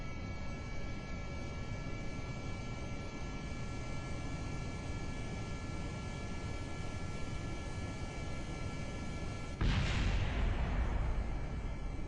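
Jet engines throttle up on a craft in Kerbal Space Program, a steady loud roar that abruptly surges into a heavier, brighter blast near the end, with no talking.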